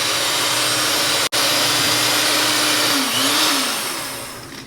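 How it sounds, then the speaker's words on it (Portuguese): Electric mixer beating three eggs for a Pernambuco bolo de rolo batter, a steady loud motor whir running close and continuously, briefly cut off once, then easing down slightly toward the end with no talking. "Bati por 5 minutos e agora eu não vou mais usar a batedeira."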